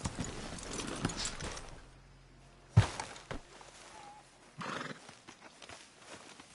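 In the video game Red Dead Redemption II, a horse whinnies and its hooves thud and clop on the ground, a sharp neigh near the start followed by scattered hoof knocks, close and clear.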